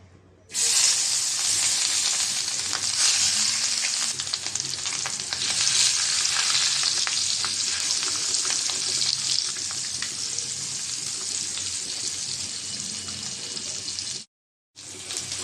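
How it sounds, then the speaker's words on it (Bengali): Fish frying in oil in a wok for a cauliflower-and-potato katla curry gives off a loud, steady sizzle close by, with a brief drop to silence near the end. "কড়াইটা বসাই দিয়েছি, মাছ ভেজে নেব।"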